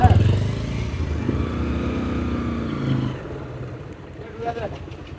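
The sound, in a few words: motorbike engine running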